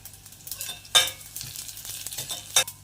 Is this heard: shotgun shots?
no